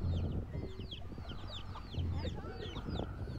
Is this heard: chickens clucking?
yes